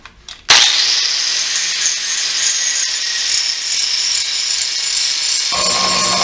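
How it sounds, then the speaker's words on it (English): Grinder taking the teeth off a steel Sawzall blade: the tool spins up abruptly and holds a loud, harsh, steady whine of metal grinding at close range, with a slight change in pitch near the end. "the first thing we're going to do with this Sawzall blade is we're going to take all the teeth off this thing"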